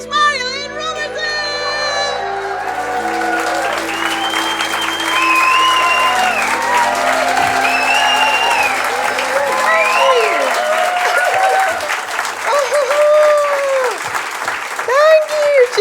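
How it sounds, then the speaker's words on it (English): Comedy special audience clapping and cheering as the comedian is welcomed to the stage, a loud sustained wash of applause with whoops and shouts rising over it, continuing throughout. "So if you could please start the clapping and the cheering"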